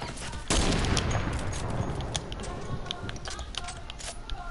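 Fortnite gunfire in a 1v1 playground match breaks out as a sudden burst followed by a rapid scatter of sharp shots and clicks, loud and busy throughout.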